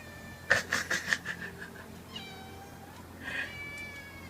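A cat gives a quick burst of four or five short, close meows, then one longer meow after a pause, over a quiet room hum.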